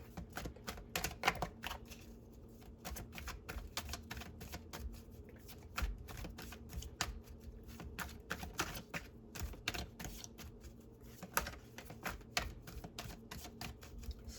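Tarot cards being shuffled in a steady stream of crisp riffling and flicking, moderately close, with small taps and pauses between bursts and no one speaking.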